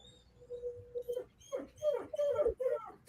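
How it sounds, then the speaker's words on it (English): A dog whines and whimpers in high, drawn-out tones that rise and break off, with people talking over it nearby. "Is that Mazzy panting? No, that's Mike's dog"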